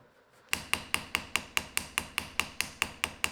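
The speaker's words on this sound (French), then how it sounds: "Je tape uniquement sur les bords pour faire une tête de clou." A hammer taps the edges of a pin to form a rivet head while making a knife, about fourteen sharp, evenly spaced metallic strikes in a steady quick rhythm after a brief quiet start.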